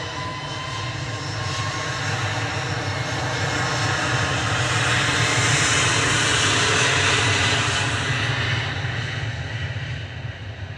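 Jet engines of a Ryanair aircraft, registration EI-HEV, at Manchester Airport roar steadily and loudly throughout, a broad sustained rumble with rising hiss that swells toward the middle as the plane passes close by.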